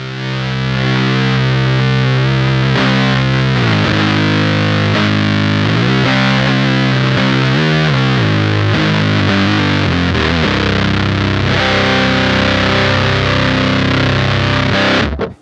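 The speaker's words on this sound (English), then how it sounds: "As we start to turn the level up, we're gonna get a louder and louder sound." Minotaur Sonic Terrors pedal with its level turned up, loud distorted guitar chords played continuously for about fifteen seconds, thick and saturated, with no talking.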